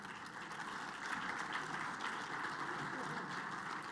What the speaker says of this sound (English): let's give Jeff another big round of applause